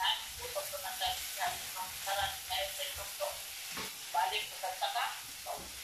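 Bitter gourd (ampalaya) with egg frying in a pan, a steady hiss and crackle that carries throughout and pops now and then, while people chat nearby.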